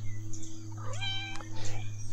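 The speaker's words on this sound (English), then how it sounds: "You want to say meow?" A single short meow from a cat rises out of a low steady hum, moderately close, with no talk over it.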